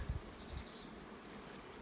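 A faint, steady honey bee buzz hums beneath a low background hiss, with a few soft thumps at the start, at a hive.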